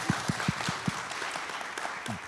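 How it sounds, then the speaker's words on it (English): A crowd claps, with a few sharp, distinct claps at first blending into a moderate round of applause. "give her a round of applause"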